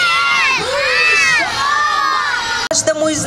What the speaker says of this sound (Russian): Третий раз самый громкий Дедушка Мороз кричим!